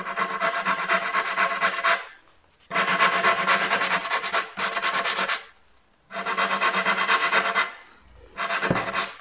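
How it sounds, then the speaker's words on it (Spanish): Sandpaper rubbing back and forth over the corner of a flexible wall molding, heard as four steady rasping bursts separated by short pauses, close up and alone. "Vamos a dar un poquito de lija en esta esquinita."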